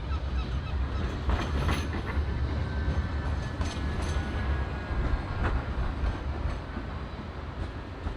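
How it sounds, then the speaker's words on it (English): A Blackpool tram rolling along the promenade, a continuous low rumble and rattle of wheels on rail with scattered clanks, fairly close and steady throughout. "Comes a tram, I can hear it."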